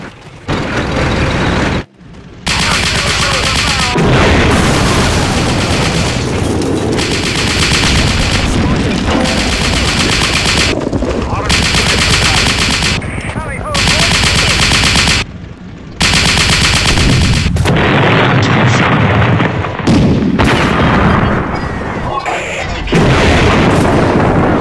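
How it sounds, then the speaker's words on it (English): A battle in the Sudden Strike video game: dense, loud machine-gun bursts, rifle shots and booming artillery barrage explosions come in rapid, overlapping waves, broken by a few brief pauses. "Artillery ready for barrage!"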